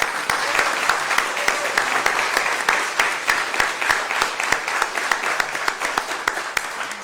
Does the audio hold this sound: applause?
yes